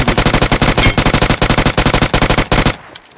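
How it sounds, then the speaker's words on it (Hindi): Rapid automatic gunfire in a shooter video game, a loud, close, sustained burst of evenly spaced shots that ends abruptly with a faint tail. "यहाँ से आ रही थी बंदों की गोली की आवाज़"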